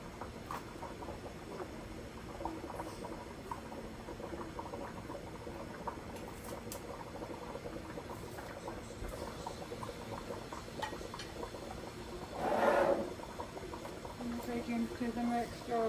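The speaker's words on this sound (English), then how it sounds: "It's still at a rolling boil for that length of time." Tomatoes at a rolling boil for canning bubble and hiss steadily in a pot, a soft continuous burbling under a person's talk, with a brief louder gurgling splash near the end.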